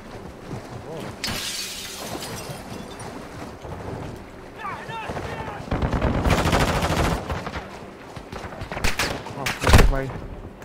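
Call of Duty DMZ firefight: bursts of gunfire and sharp cracks come in clusters over a constant background of in-game noise, with players talking throughout.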